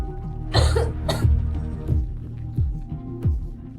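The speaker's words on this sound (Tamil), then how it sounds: "அந்த பெண்ணுக்கு குளிரால் இருமல் வர ஆரம்பித்தது" A woman coughs from the cold: two harsh, close coughs in quick succession, followed by a low, throbbing hum with soft rhythmic thumps.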